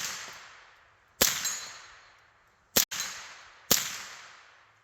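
Three sharp, loud rifle shots from an AR-15 fitted with a CMMG kit, spaced about a second or more apart with the last two closer together, each followed by a long fading outdoor echo.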